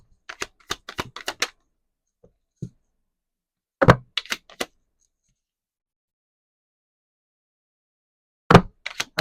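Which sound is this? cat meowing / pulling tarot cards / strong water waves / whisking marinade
pulling tarot cards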